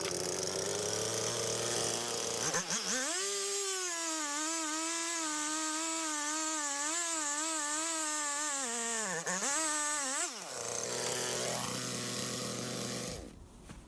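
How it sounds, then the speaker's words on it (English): A chainsaw cuts a wood log in half to make bowl blanks, its engine droning steadily at high revs for several seconds with slight pitch wavers under load, then dropping off as the cut ends, loud and close. "So let's cut her in half with the chainsaw."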